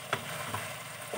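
Mixed vegetable bhaji fries in a pan with a soft, continuous sizzle and a few light scraping stirs over about a second, close by and without speech.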